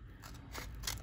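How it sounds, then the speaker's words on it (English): Scissors cut open a mail envelope with faint, close snipping and paper slicing, a few soft crisp cuts over quiet room tone. "I'm going to use my scissors to do the rest"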